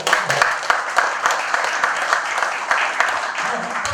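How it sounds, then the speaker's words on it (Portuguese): Audience at a Brazilian award ceremony clapping together, a dense, fairly loud burst of applause that holds steady for a few seconds. "uma salva de palmas para vocês que vieram"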